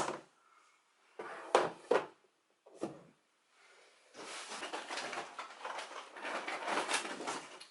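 A makeup desk organiser's bottom drawers slide open and shut as two bulky eyeshadow palettes are stored, giving several close, distinct wooden bumps followed by a longer stretch of rustling and shuffling at moderate volume.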